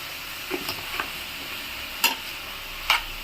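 Tomato pieces with salt are stirred in a pan, giving a faint steady background hiss broken by a few sharp scraping clicks of a utensil against the pan, each short and near.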